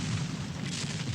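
Dramatized Civil War cannon artillery fire at Gettysburg rumbles as a faint, distant low boom that fills the brief moment without any voices.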